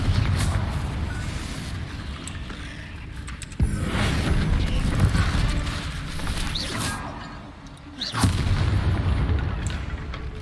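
Confringo blasting spells go off in a Harry Potter video game as deep, booming explosions. Two heavy blasts land a few seconds apart over a rumbling game soundtrack.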